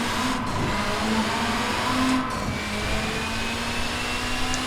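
A Nissan Pulsar GTI-R's engine in Forza Horizon 4, heard from the cockpit as a steady mid-pitched drone with a faint high whine, holding fairly constant at a moderate level.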